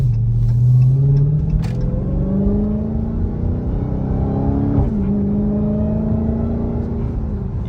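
A 2022 Dodge Charger Hellcat makes a light, brief pull, its engine revving up with a rising whine and deep rumble that then settles back, heard close with no talk.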